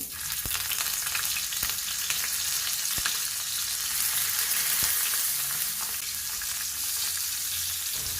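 Dried fish frying in hot oil in a pan gives a dense, steady hiss and sizzle with occasional sharp pops and crackles, close and constant throughout.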